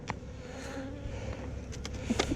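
Honeybees buzz in a close, steady drone around a hive, with a few louder passes as individual bees fly near.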